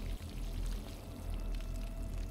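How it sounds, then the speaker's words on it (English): Plants being watered in a video game, a brief, steady pouring trickle of water, quiet and continuous with no talking. "Damn, how much watering do these things need?"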